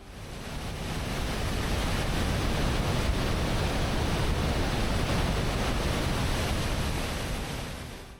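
Water cascades heavily over a waterfall along the Icefields Parkway, a loud, steady, dense roar that holds unbroken from start to finish with no voices.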